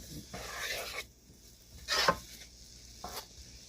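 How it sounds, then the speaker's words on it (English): Bell peppers and garlic sauteing in about two tablespoons of grapeseed oil for a zucchini casserole, with soft sizzling and a few stirring scrapes and bursts, fairly quiet and close, without talk. "we're gonna go ahead and saute this a little bit"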